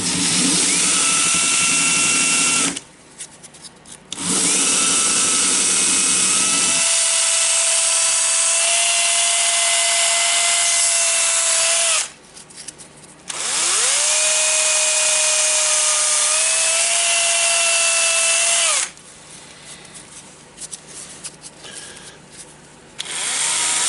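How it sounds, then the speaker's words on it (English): An electric drill spins a Bosch GWS 13-125 CIE angle grinder armature against sandpaper to clean the commutator, a loud steady whine running in long bursts with brief pauses between them and pitch shifts as the load changes. "armature into the drill and just spin it."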